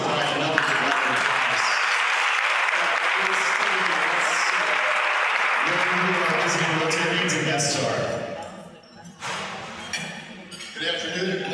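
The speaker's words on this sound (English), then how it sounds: "Let's give Brian another round of applause." A Rotary Club meeting audience breaks into loud, sustained applause that holds steady for several seconds before fading, with voices chattering as it dies down.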